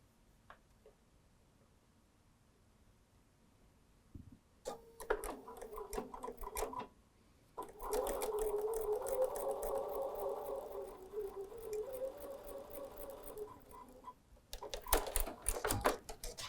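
Sewing machine stitching fabric for a table runner, with rapid mechanical ticking runs that start and stop in several bursts between quiet pauses, close and fairly soft.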